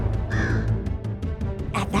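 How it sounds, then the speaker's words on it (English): Crows caw loudly and close, several harsh calls overlapping in a quick rhythmic series over a dense, noisy background. "The crows woke up at the call and immediately began chasing Doongdoong and Dongdong."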